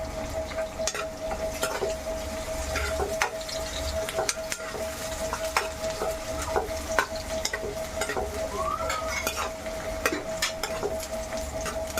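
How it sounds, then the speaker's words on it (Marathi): Slit green chilies and curry leaves frying in hot oil in a pan for a Bengali fish curry, giving a continuous close sizzle with frequent sharp clicks and scrapes of a spoon against the metal. "बघा मी या मिरच्या आहेत उभ्या चिरल्यात, ह्या टाकणार आणि कढीपत्ता टाकणार."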